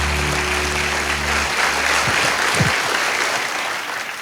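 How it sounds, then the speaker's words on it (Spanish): A church congregation gives loud, sustained applause in praise, a dense even roar of clapping that holds steady for several seconds with no talk over it. "Démosle un fuerte aplauso al Señor Jesús."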